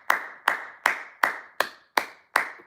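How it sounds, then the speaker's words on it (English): Seven sharp, evenly spaced hand claps ring out in a steady rhythm, loud and close, each one decaying quickly before the next. "Round of applause."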